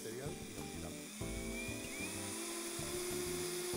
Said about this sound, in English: When we try to screw the stainless steel onto sheet steel, we see that we end up consuming the bit.